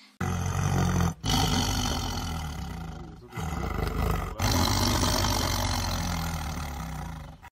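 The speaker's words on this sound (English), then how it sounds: "T for tiger." A tiger roars loudly and close in two long, rumbling bursts, each broken by short pauses for breath.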